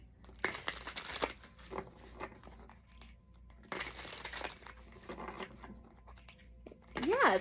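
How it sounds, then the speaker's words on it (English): Tarot cards being shuffled by hand make crisp, papery riffling bursts in several separate rounds, close and fairly quiet, with a faint voice at the very end. "let's shuffle it a little bit more"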